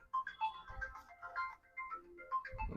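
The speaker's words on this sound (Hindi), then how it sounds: "चेक करो किसका फोन।" A mobile phone ringtone plays faintly as a short melodic tune in a classroom, with no talk over it.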